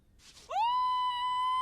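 A cartoon character in the Moominvalley animated series lets out a scream of delight: a sustained, loud, piercing high-pitched cry held steadily for over a second, after a brief breathy intake.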